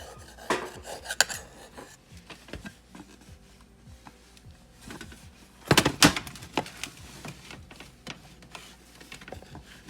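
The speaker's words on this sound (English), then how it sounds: "take a little butter knife and go down the sides gently to help release it all the way around" A butter knife is run around the sides of a peach cobbler pound cake pan, giving scattered metallic scrapes and light clinks, with a louder cluster of scraping about midway.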